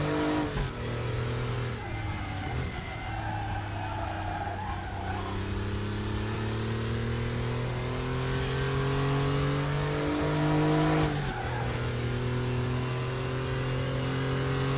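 Old-school classic race car engine in the Raceroom racing video game, revving loud and close with rising and falling pitch through gear changes, a sharp shift and tire squeal near the middle, no talk.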